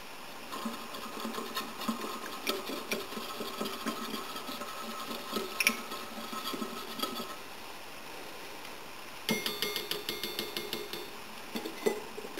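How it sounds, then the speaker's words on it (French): A whisk scrapes and taps rapidly against a bowl in quick rhythmic bursts, fairly faint and close, with a short pause before the beating resumes. "Et on peut commencer à mélanger"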